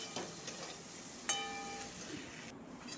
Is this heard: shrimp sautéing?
yes